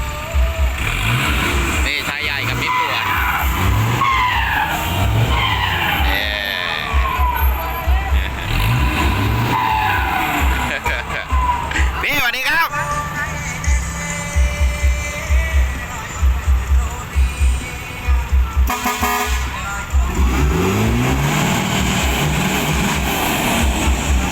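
A convoy of heavy trucks rumbles slowly past with low droning engines and the hiss of air brakes, while people talk and shout over the steady traffic noise.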